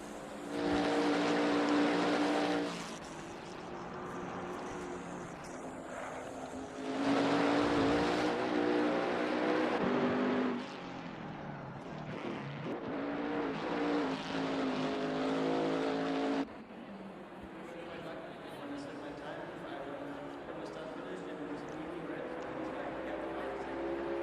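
A Chevrolet Camaro GT4 race car in a racing simulator game at the Nurburgring drones steadily, its engine note rising and falling through repeated gear changes and revs, with louder bursts separated by quieter lifts.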